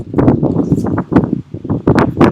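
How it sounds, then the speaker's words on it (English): Strong outdoor wind gusting over the microphone in Wellington, New Zealand, producing loud, uneven rumbling buffets in repeated bursts with brief lulls between them. "Ready for the wind?"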